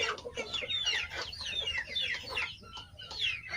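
A brooding hen sitting on eggs gives agitated, rapid clucks and squawky warbling calls, loud and close in a continuous run across the whole stretch.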